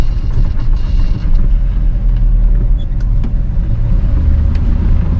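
Loud, rumbling engine and road noise fill the cabin of a 1973 GMC C2500 pickup with a 454 7.4-litre big-block V8 cruising along, with occasional rattles and clunks over the steady drone.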